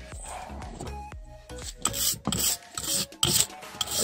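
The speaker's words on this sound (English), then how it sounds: "Clean the thread with the wire brush." Wire brush rasping back and forth over the threaded end of a Toyota Echo or Yaris transmission drive axle, close and scratchy, in short irregular strokes.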